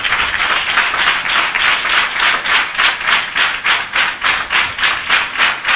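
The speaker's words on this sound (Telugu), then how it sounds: "దేవునికి గట్టిగా చప్పట్లు కొట్టండి నచ్చిన వాళ్ళు" A church congregation claps loudly together in a fast, even rhythm, a dense wall of hand claps that fills the whole stretch with no talking over it.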